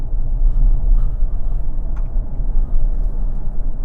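A Mazda CX-80 SUV drives on the road, heard from inside as a steady, loud low rumble of road and engine noise with no talk.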